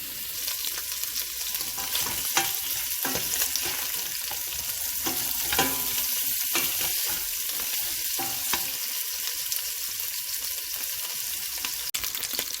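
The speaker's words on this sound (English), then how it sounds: "that's about half of the oxtail, so let's get that browning" Oxtail browns in a hot pan with a constant close sizzle, broken by occasional clicks and scraping taps from stirring or turning the meat.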